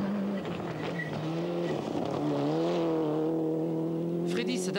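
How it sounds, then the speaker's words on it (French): Toyota Celica rally car from the 1996 Rally of Portugal driving on rocky gravel, engine tone climbing and shifting through gears, heard under a speaking voice. "Freddy et Sven ont le droit de rouler 30 km, question de découvrir le pilotage de la Celica sur la terre caillouteuse"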